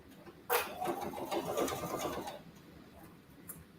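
A home sewing machine back stitching a zippered cross body bag gives a short, quiet burst of rapid needle chatter lasting about two seconds, followed by a faint click.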